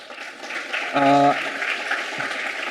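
Audience applause at a conference for a program committee member, a steady wash of clapping throughout with a brief tonal note in the middle and a voice speaking over it.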